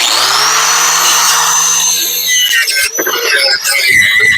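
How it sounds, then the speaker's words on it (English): A power-driven wire brush works on a 1978 Chevy C20 truck frame, a loud continuous high whir that dips and roughens toward the end as it bites into the metal. "I'm going to clean this up with a wire brush"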